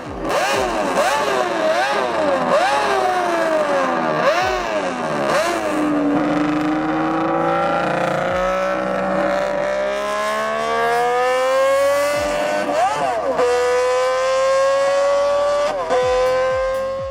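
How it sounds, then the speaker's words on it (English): An inline-six motorcycle engine revs over and over, pitch rising and falling in smooth sweeps, loud and continuous with brief dips between throttle blips. "you gotta hear how this motorcycle sounds"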